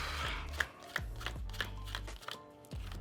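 Playing cards are dealt off a deck one at a time during a card trick, giving a run of soft, regular flicks and slaps roughly every third of a second, close and alone.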